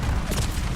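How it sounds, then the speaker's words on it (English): A grenade detonates in Call of Duty: Black Ops 7, a short, dense, booming blast with a rough low rumble that fills the moment. "Grenade."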